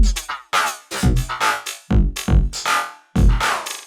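A punchy electronic drum beat run through very short, automated delays gives each hit a smeared, vocal-like talking quality, with loud thumping kicks and snappy hits in a bouncy, uneven pattern up close.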